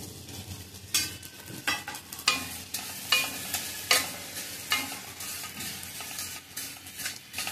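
Vermicelli roasts in ghee in a pan over a low flame for shevaya upma, a soft continuous sizzle punctuated by regular scraping strokes of a spoon stirring the strands, close and fairly quiet.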